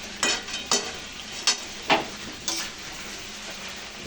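Chicken pieces being sautéed and stirred in a pan, a low sizzle under five or six evenly spaced scraping strokes of the spoon, close and fairly loud with no speech.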